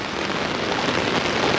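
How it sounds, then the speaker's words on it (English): Wind-driven rain pours down steadily during a Kansas storm, a dense, even hiss of drops pelting surfaces close by without a break. "I'm getting soaked because the wind is blowing the rain."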